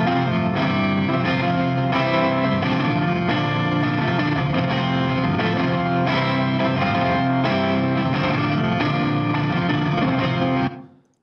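A guitar track plays back in the Studio One recording software, a steady, heavily effected and distorted electric guitar part running continuously for about eleven seconds before cutting off abruptly.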